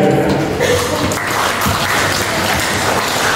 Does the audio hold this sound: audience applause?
yes